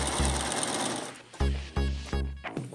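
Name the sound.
sewing machine stitching a side hem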